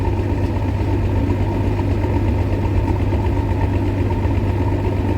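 A farm machine engine, a John Deere 9750 STS combine or Massey Ferguson 760, idles roughly nearby with a steady low throbbing drone and faint knocking pulses.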